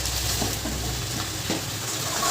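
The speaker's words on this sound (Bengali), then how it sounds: "এই যে মা আবার নাড়াচাড়া করছে" Malabar spinach curry is stirred in a wok as it dries and sticks to the pan, a steady close sizzle with soft scraping strokes repeating every half second or so.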